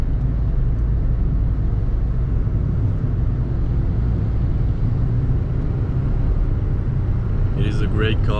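Interior hum of a VW Fox with a 54hp engine on the move, a steady low engine and road drone throughout, with a brief higher chirp or voice near the end.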